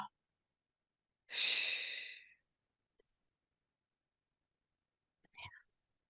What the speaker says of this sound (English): Deep breath in. Powerful breath out.